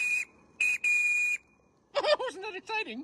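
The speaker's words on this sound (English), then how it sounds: "Henry, I think they're going to toot the whistle for us." Steam whistle on a Regner live steam model train, two sustained shrill toots with a short gap between them, followed by a voice speaking close by.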